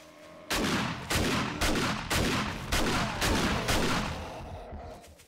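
Several heavy shotgun blasts fired in the survival video game 7 Days to Die, about six loud booming shots in quick succession, roughly half a second to a second apart, with no talk over them.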